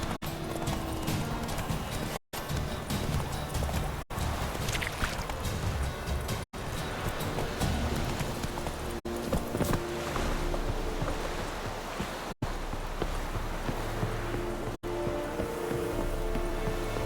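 Horse hooves clip-clopping at a steady trotting rhythm while riding in the video game The Witcher 3, continuous and fairly close under ambient game sound and music.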